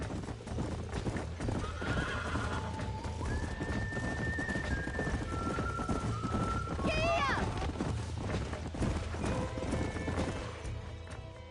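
Horses in the Western video game Red Dead Redemption whinny loudly several times over steady clip-clopping hooves, with a voice briefly shouting and game music underneath.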